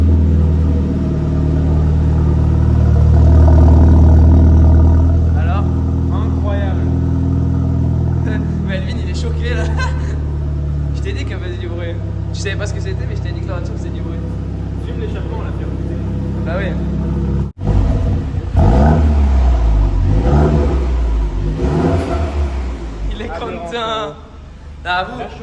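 A car with a Stage 1 tune and full exhaust starts up and revs, a loud, close engine rumble holding and swelling in pitch, with people talking excitedly over it throughout.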